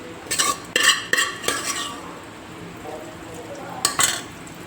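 Cooked mutton and curry leaves frying in oil in a pan, with loud bursts of spatula scraping and clinking against the metal over a quieter sizzle.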